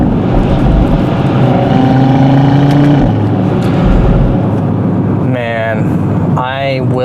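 A stock Audi RS3 engine drones loudly from inside the car while driving, a steady powerful tone that shifts pitch as it changes gear, with a voice briefly over it near the end.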